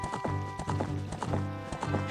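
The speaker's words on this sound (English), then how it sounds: "we've recovered our horse, and we can park Epona where we need" The horse Epona trots in the video game Ocarina of Time, with rhythmic clip-clop hoofbeats repeating steadily and close, backed by a sustained musical drone.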